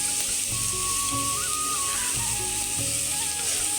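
Spices fry in a pan for dalia khichdi with a steady, close hiss and sizzle, joined by faint stirring and quiet background tones.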